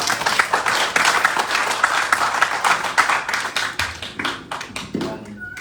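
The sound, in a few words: audience round of applause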